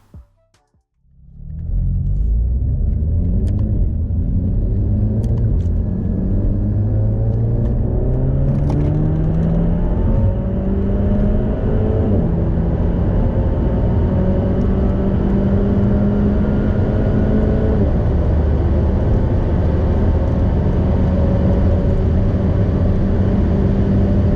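Remapped car accelerating hard through a 100-200 km/h run, a loud continuous engine roar with rising tones climbing through successive gears, starting after a brief quiet moment and sustained to the end.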